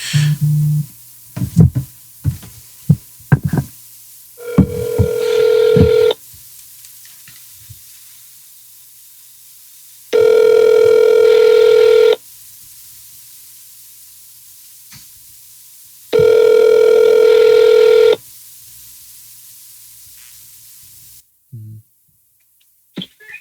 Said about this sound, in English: I'm going to call him first real quick